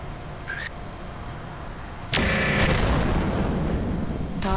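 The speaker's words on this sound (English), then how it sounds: "Oh, someone's shooting at me." Enemy weapon fire striking a mech in MechWarrior 4: Mercenaries, a faint early zap followed by a sudden loud burst of explosive impacts that sustains as a roaring blast, with another brief hit near the end.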